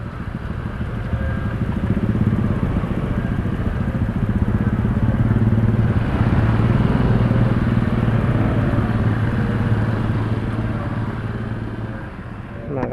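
An automatic fuel-injected scooter engine runs steadily at idle, a low droning hum with a slight clattering rattle, close and continuous throughout.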